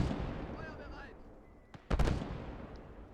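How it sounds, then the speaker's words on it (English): Mortar and artillery fire in the World War II game Gates of Hell: Ostfront, a low, steady battlefield rumble broken by a sharp crack and then a heavier nearby blast, its echo trailing off. "those mortars, if you keep resupplying them, they're just gonna keep whittling me down"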